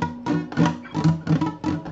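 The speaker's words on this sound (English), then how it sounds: "Now, most of the time when you do a bar chord for the first time, it sounds like this." A guitar bar chord played badly on a first attempt, strummed six times in an uneven rhythm with muted, buzzy, ringing strings, close and loud with no talking.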